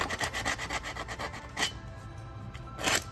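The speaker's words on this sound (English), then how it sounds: "I'm gonna have to grind this off to get a good weld." An angle grinder works steel on a Jeep, clearing old weld before rewelding, giving a harsh rasping grind that pulses in repeated strokes, with two louder surges near the end and no talking.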